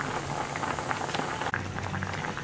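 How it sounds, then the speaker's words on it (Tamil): Jowar flour dough for kali simmering in a covered pot, a steady bubbling and hissing boil with soft popping, continuous and close, with no talking. "இங்கே பாருங்கள், இது பொங்கி அந்த மாவும் வந்து உள்ளுக்குள்ளே வேகும்."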